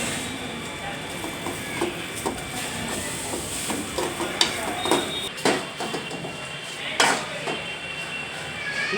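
Green chillies frying in hot oil give a steady sizzling hiss with scattered crackles and pops, alongside occasional clinks of a utensil against the pan.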